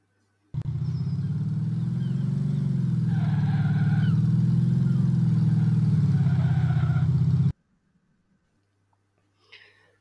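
Car engine revving sound effect in a Roblox game, a steady droning engine tone that swells slightly over several seconds, then cuts off abruptly into near silence with a faint brief sound at the end.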